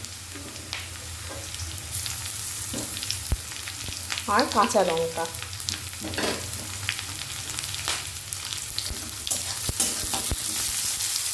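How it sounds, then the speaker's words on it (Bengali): Chopped onion, garlic and green chilli sizzle and crackle in hot oil while a spoon scrapes and stirs through them in uneven bursts, with a short spoken phrase partway through. "রসুনটাও পেঁয়াজের সাথে একটু ভেজে নেব"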